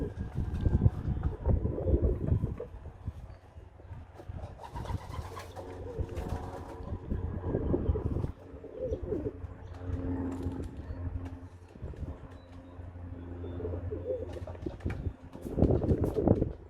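Pigeons cooing near a new loft, soft repeated low coos recurring throughout under steady wind noise outdoors.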